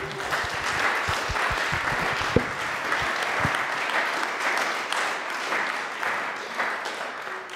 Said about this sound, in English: Round of applause for those guys and for you